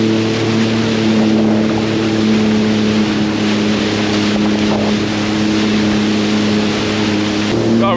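A Sea-Doo personal watercraft rides through choppy waves and a strong current, its engine droning loud and steady up close, mixed with wind buffeting and water rush throughout.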